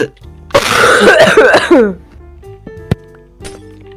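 A video game character's harsh burst of coughing and throat clearing, loud and close, followed by quiet with a faint clink.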